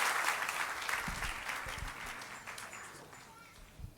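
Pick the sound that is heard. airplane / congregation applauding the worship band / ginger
congregation applauding the worship band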